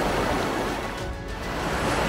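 Steady broadband rush of river water just downstream of an Icelandic waterfall crossing, loud and continuous with a faint wind-like hiss, no voices.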